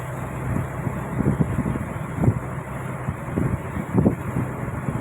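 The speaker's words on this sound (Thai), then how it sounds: "วันนี้ก็เป็นลมแล้วเนี่ย" Wind blowing over open sea from a fishing boat, a steady rushing roar with low rumbling gusts that swell and fade, close and fairly loud with no voices.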